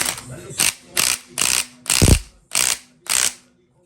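A hand ratchet tightens a camshaft sprocket bolt on a Scat Pack engine during timing component installation, giving six evenly spaced rasping clicks, close and loud, with no speech.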